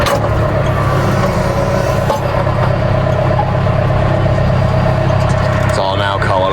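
A John Deere tractor engine runs steadily at close range in a potato field, a loud continuous drone with a brief mechanical rattle near the end.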